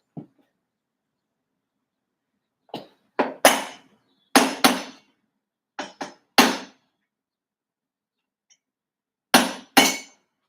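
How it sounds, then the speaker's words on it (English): Sharp metallic strikes of a hammer on a 2007 Toro mower's Briggs and Stratton engine during teardown come in short irregular bursts of one to three blows separated by silent pauses. "Strike with a hammer or something."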